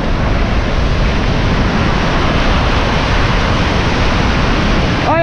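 Big waves during a typhoon surge as a dense, constant roar of water and wind buffeting the microphone, loud and unbroken, with a brief voice just at the end.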